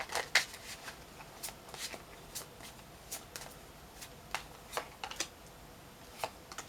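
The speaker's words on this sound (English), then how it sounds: "we're going to give it a good shuffle." Quiet tarot card shuffling with a series of crisp, flicking riffles spaced irregularly over a soft background hiss, close and fairly faint.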